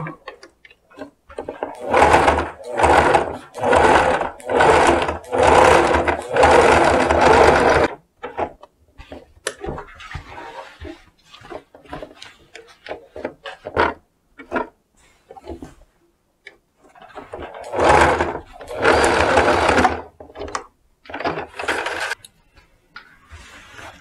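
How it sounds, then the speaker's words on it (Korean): A sewing machine stitches a pocket onto a denim skirt in close, loud bursts of rapid whirring, broken by pauses and soft handling clicks, then another burst toward the end. "주머니 끝에다가 노루발을 대고 박아주시면 됩니다"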